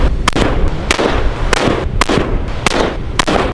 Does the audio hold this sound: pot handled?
no